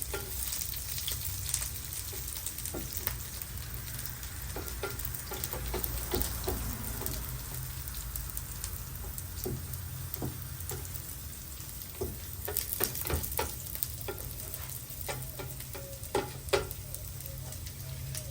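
Bologna slices with jalapenos fry in a pan at a campsite, a steady close-up sizzle and crackle with scattered pops and light clicks running throughout.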